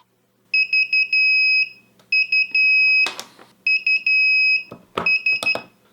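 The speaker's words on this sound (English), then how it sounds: "once it gets over 22, you should hear an alarm" Over-temperature alarm on a temperature controller set to trigger above 22 degrees: loud repeating electronic beeps in several long bursts, with clicks and handling noise in between.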